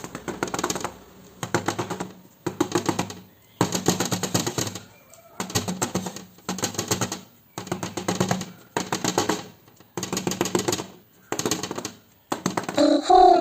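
A filled cupcake tray holding nine cupcakes is rapped repeatedly on a hard surface to settle the batter, producing loud bursts of rattling clatter in steady rhythmic groups with short pauses between them.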